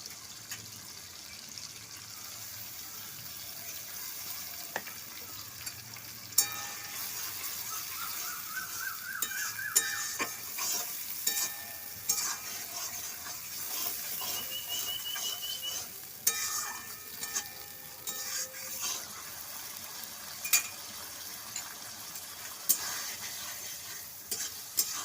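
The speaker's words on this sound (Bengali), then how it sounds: "এবার আমি একে একে সমস্ত মশলা দিয়ে কষিয়ে নেবো ভালো করে" Cumin paste and spices sizzle steadily in a hot pan for a village-style chicken curry with raw jackfruit, with repeated scraping stirs and occasional sharp clicks of the spoon.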